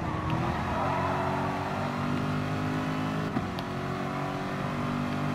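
Porsche 911 RSR and Chevrolet Corvette C7 race cars in Gran Turismo Sport drone loudly and steadily, engines revving in a close continuous pack with a brief thump partway through, no voices.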